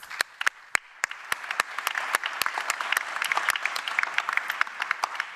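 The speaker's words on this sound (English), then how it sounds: "So we just give them a round of applause." Applause for humanitarian field workers at a panel discussion on aid funding: a few sharp individual claps at first, swelling into steady, moderately loud clapping from a modest audience.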